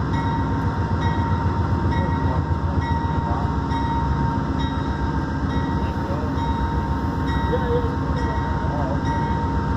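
Amtrak passenger train led by CN locomotives passing eastbound in Port Huron, Michigan, a continuous loud rumble with rhythmic wheel clatter throughout and faint voices underneath.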